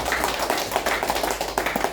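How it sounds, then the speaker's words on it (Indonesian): Applause from an audience at a political gathering of activists, a close, steady patter of many hands clapping for the full short stretch. "karena itu tepuk tangan untuk seluruh aktivis"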